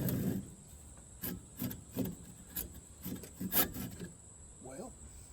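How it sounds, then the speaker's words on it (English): A hand saw set in a widened channel cuts wood in a series of short, rhythmic rasping strokes, close and fairly quiet, about ten strokes with brief pauses between them. "Now, I'm going to take my trusty saw"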